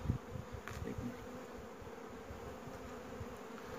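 Honey bees in an open beehive box give a steady, dense buzzing hum that holds at an even level throughout, with no voices over it.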